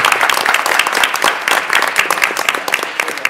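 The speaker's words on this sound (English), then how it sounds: "Why don't we give another big round of applause to all of our Safety Patrol." Audience applause for a student Safety Patrol at a school board of education meeting, a dense, steady patter of many hands clapping throughout, fairly loud and close.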